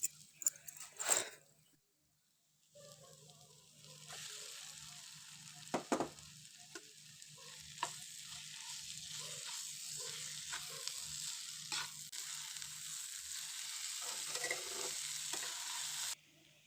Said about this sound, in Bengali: একটু ভাজা হলে পরে দিয়ে দিলাম শোল মাছের ছোড়াটা।